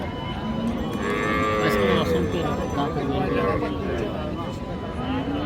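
Cattle at a cattle market in Bangladesh, where cows and heifers with calves are sold, moo repeatedly in long drawn calls over a steady crowd murmur, with people talking throughout.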